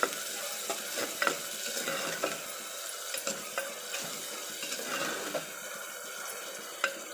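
Tomatoes sautéing in a pan for curry leaf kuzhambu, a continuous bright sizzle with frequent scraping stir strokes and occasional clicks of the spoon against the pan, close and fairly loud, no talking.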